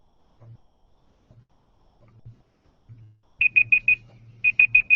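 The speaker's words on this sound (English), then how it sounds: "I don't know if you can hear that, but there are little beep sounds." A countdown timer ticks with faint low clicks at first, then a cluster of sharp high beeps sounds in two quick rapid-fire groups of four, like an alarm going off.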